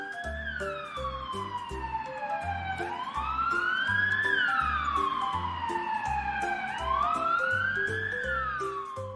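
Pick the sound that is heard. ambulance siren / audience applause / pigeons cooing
ambulance siren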